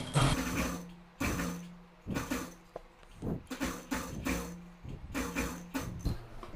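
Tailoring sewing machine stitching piping on a designer fabric patch, running in repeated short bursts of rapid mechanical clatter with brief pauses between, close and moderately quiet.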